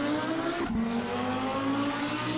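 A V16 race car engine in the Assetto Corsa racing game, a loud, steady high-pitched drone with a brief tire-scrub squeal partway through, with no speech.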